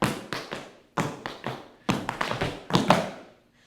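Tap dance shoes strike out a double pullback and ball change in crisp, rhythmic clusters of close, loud taps and thuds, repeated in quick bursts with short pauses between and no talking.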